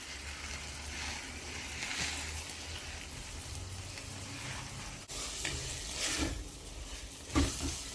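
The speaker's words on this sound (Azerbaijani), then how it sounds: "Biraz qovrulsun. İndi makaronunu əlavə eləyəcəm." Macaroni frying and being stirred in a pan, giving a steady soft sizzle with occasional scraping stirs and a brief louder clatter near the end, heard close with no speech.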